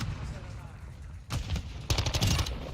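Gunfire from a weak weapon in Call of Duty Modern Warfare II, heard in the small Shipment map: loud, rapid bursts of shots in two clusters, the second denser, over a steady background of game noise.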